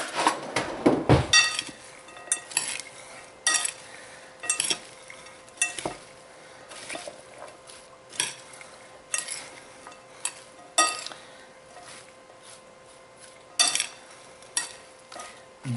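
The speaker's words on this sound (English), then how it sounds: "Now we're going to mix it up here and just see what it looks like for the moment." Red cabbage and other vegetables for a crunch salad being tossed and mixed in a bowl, giving a run of irregular crisp rustles and clatters with a steady faint hum underneath, and no talking.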